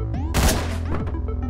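Gunfire from the top-down action game Hotline Miami, a loud burst of shots near the start over a busy game soundtrack that keeps playing throughout.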